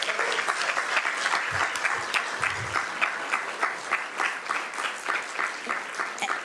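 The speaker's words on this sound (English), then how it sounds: "we'll give Jenny, Maria, Brenda, Gabriella, and Chris a huge round of applause" Audience applause at a county supervisor's swearing-in ceremony, many hands clapping steadily for several seconds at a moderate distance, with no talk over it.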